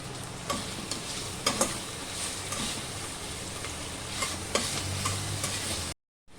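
Onions and a spice paste fry in a pan for a vegetable biryani, a close, steady sizzle broken by occasional clinks of stirring, with no voices; it cuts off abruptly at the end.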